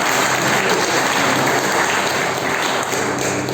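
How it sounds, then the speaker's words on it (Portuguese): A church congregation claps for the Lord during a Portuguese-language service, a loud, dense wash of clapping that runs unbroken and evenly throughout, slightly hissy and rain-like. "Você pode aplaudir o Senhor por isso?"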